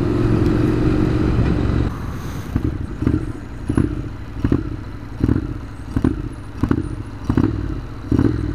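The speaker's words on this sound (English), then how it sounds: "Just have to give it a bit of throttle." A motorcycle engine converted to run on diesel fuel, idling roughly with regular clattering knocks and throttle blips at close range, its loud pulsing chug repeating about every 0.7 seconds.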